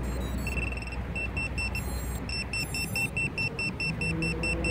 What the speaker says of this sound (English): The buzzer is going off because I don't have the Vivo on yet.